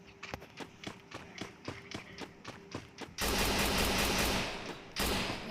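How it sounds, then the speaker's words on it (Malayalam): Gunfire in the Free Fire battle-royale video game: a run of evenly spaced single shots, roughly three per second, then a sudden, much louder dense burst of firing that cuts off and briefly resumes near the end. "അവനവിടെ നിന്ന് വെടിവെച്ച് കളിക്കുന്നുണ്ട്"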